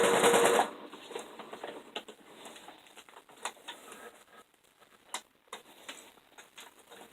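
A sewing machine stitching through thick fabric on a padded bag with a plastic inner liner gives quiet, irregular ticks and taps after a brief loud burst at the start.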